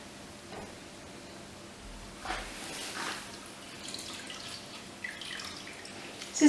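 Sponges are rinsed in clean water while cleaning skin during a chemical peel treatment, giving quiet drips and small splashes over a faint steady hiss, with a few brief louder wet bursts.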